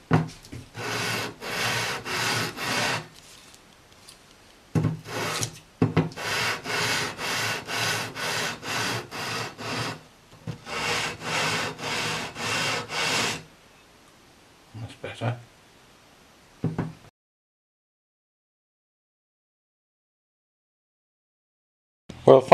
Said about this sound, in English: filing these frets has been a bit of a learning curve